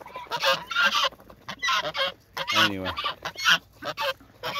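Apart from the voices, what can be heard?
geese honking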